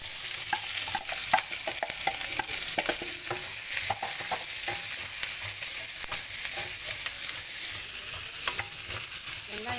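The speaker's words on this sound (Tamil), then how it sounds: "இப்போ வெங்காயம் வதக்குறோம்." Sliced onions sauté in hot oil in a pan for paneer butter masala. A constant close sizzle runs throughout, broken by scattered clicks and scrapes from stirring.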